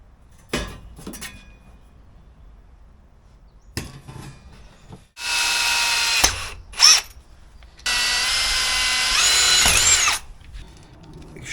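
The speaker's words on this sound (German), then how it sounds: "Ich schneide hier ein Gewinde rein." A power tool cuts a thread into 1 mm sheet metal in two loud, steady bursts separated by a short pause, with a few sharp knocks and clicks before and between them.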